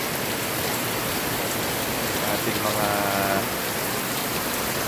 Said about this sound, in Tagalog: napakalakas po ng ulan dito sa aming kagubatan